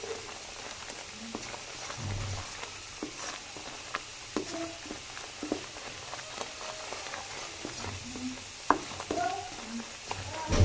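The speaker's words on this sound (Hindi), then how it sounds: "इसी तरह हमने चम्मच हिलाते रहना है" Khoya being fried and stirred with a spoon in a pan over low heat, a soft steady sizzle with scattered scraping and tapping strokes close by.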